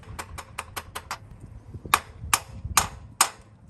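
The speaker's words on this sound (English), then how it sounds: "the sound of the hammer hitting the tool" A hammer tapping a seal driver into the axle housing of a 100 Series Land Cruiser / LX470, six quick light metallic taps followed by four heavier, spaced, ringing strikes, close and clear.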